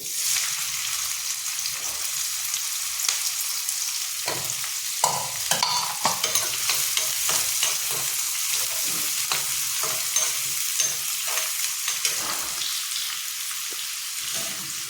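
Chopped onion frying in hot oil in a pan for a Maharashtrian potato dish, a steady close sizzle with scattered stirring clinks and scrapes throughout, no voices.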